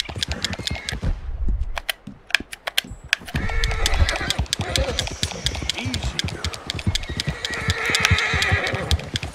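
Horse neighs and hoofbeats in the Red Dead Redemption 2 video game, with dense rapid clip-clop, a sharp crack and busy game sounds throughout, the horse whinnying over the galloping.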